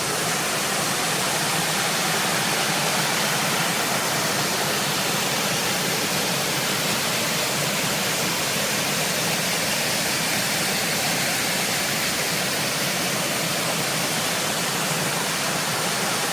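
Loud, continuous rush of water after heavy rainfall in the Melba Gully rainforest, a dense steady roar with no voices.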